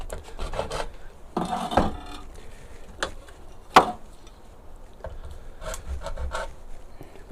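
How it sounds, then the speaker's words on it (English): Hacksaw cutting a motorcycle part clamped in a vise, heard close as irregular rasping strokes and short scrapes with pauses, one sharp louder bite partway through. "Just use my hacksaw. Cut it a bit bigger than I need it."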